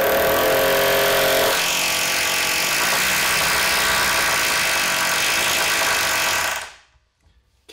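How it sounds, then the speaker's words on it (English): A concrete hammer drill bores into a basement floor while a wall is being framed. It roars loud and close with a harsh, rapid hammering that holds steady for nearly seven seconds, then stops abruptly into near silence. "take my concrete drill"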